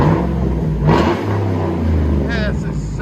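A Cadillac Escalade's 6.2L V8 with an aftermarket dual exhaust rumbles loudly and deeply, swelling in a couple of throttle revs, with a person talking over the engine.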